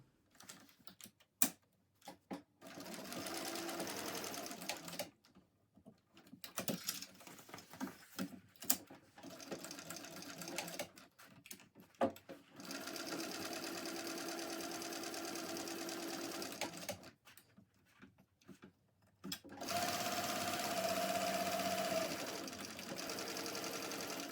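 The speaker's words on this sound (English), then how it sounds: "I'm going to stitch the exterior rectangle" Sewing machine stitching the exterior rectangle of a crossbody bag, in many short stop-start bursts of rapid stitching with quiet gaps, ending in a longer steady run.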